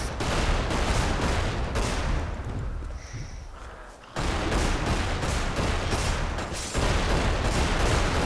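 Gunfire in the video game Magicka, a dense, continuous barrage of rapid shots that drops briefly to a quieter hiss midway before resuming loud and close.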